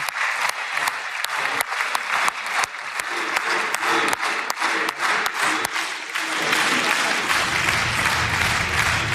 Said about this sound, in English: That was Prime Minister Benjamin Netanyahu getting a round of applause from the members of Knesset